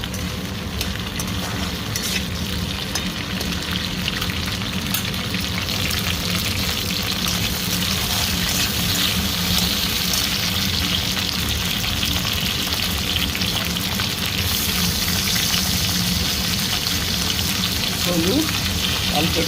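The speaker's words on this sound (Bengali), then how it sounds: "ভেন্ডিগুলো ভালো করে ফ্রাই করে নেব।" Okra (bhindi) frying in a pan gives a continuous, dense crackling sizzle heard up close for the whole stretch, with no talking over it.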